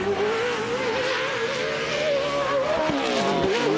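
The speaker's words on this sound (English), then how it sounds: "listen to the sound of those engines screaming" Pro 4 off-road racing trucks at a TORC race in Primm, engines screaming at high revs with a sustained wavering whine, loud and close, shifting pitch as they accelerate and slide.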